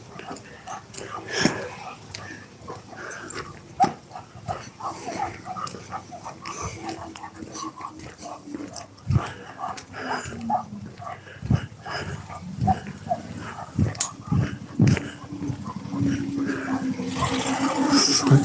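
A dog on a lead during a night walk on a street, with faint whimpers, yips and jingling movement scattered through, mixed with people talking and shuffling footsteps, close and uneven.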